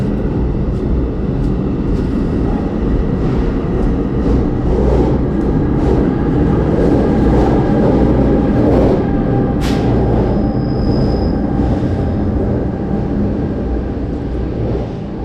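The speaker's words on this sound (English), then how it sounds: "So the train is finally leaving." A train departing Glen Ridge station in New Jersey rumbles steadily and loudly, with low mechanical drone and rattling wheels throughout, a brief high squeal near the end as it moves off.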